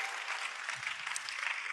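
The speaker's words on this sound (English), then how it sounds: "Please give a huge shout out to them. A round of applause." A brief, fairly faint patter of audience clapping honors two painters at a youth lab kickoff ceremony in Addis Ababa, steady throughout with no talk.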